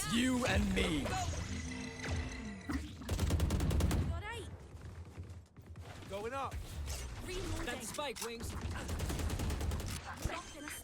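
Rapid bursts of gunfire from the video game Valorant, repeated shots in several loud volleys, mixed with game effects and someone talking over it.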